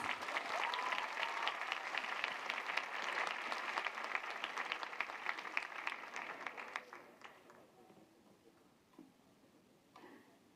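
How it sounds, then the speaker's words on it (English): Sustained applause from a large audience at an interreligious youth event during Pope Francis' visit to Catholic Junior College, dense and steady for about seven seconds before thinning into scattered claps. "Round of applause."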